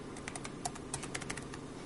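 Fast typing on a computer keyboard while entering fastboot commands to flash recovery on a Motorola Atrix, a quiet run of light, irregular key clicks with no talking.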